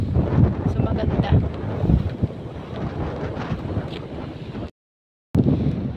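Strong wind buffets the microphone on a mountainside, roaring in heavy gusts with low rumbling bursts, then cuts briefly to silence before the gusting returns.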